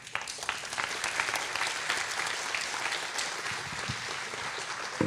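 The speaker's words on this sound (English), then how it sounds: "A lot of applause for Storm." Steady audience applause at a Rust and Ethereum conference day, a dense even clatter of many hands clapping continuously throughout with no voices over it.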